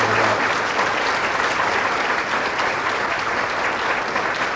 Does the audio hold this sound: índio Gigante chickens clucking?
no